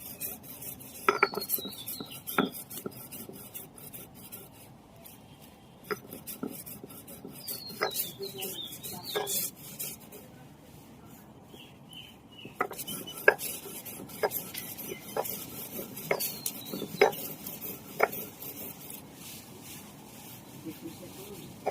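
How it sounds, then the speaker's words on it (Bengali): Kharkol leaves, cooled and salted, are ground into a paste on a stone, giving intermittent rough scraping strokes and small clinks in irregular bursts, with faint birdsong in the background. "পাতাটাকে আমি ঠান্ডা করে নিয়েছি, এবার আমি বেটে নেব।"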